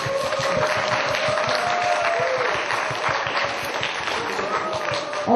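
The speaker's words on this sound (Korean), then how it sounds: "고정욱 작가님 큰 박수로 모시겠습니다." A book-concert audience applauds to welcome author Ko Jeong-uk onto the stage, a steady, dense wash of clapping filling the room for several seconds, with a faint voice or music tone running underneath.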